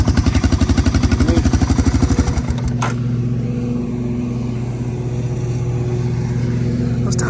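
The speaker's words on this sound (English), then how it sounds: "This old 250SX. This one fired up." A vintage Honda 250SX motorcycle engine idles with a rapid, steady loud putter up close for about two seconds, then cuts out, leaving a lower steady hum.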